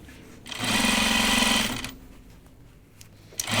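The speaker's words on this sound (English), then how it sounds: "I am stitching on the outside of my jammies" A sewing machine stitches elastic on the outside of Carolyn pajama bottoms from Closet Case Patterns in one loud, steady run of just over a second, then stops to quiet room tone and a small click.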